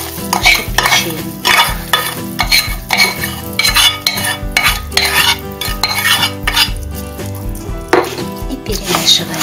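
A hot chocolate mixture is stirred into crushed biscuits in a bowl, producing loud, repeated scraping and clinking strokes in an uneven rhythm, close up and with no talking.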